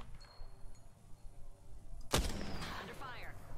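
Video game gunfire erupts in a single loud, sharp burst mid-clip with a crackling tail, after quieter game ambience.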